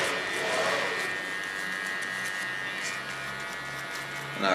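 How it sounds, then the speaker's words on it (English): An electric hair clipper hums steadily and close while trimming hair to a 2 millimeter length, a continuous buzzing drone with slight shifts in tone and no talking. "Holding the clipper a little bit more flat, so it comes to 2 millimeters"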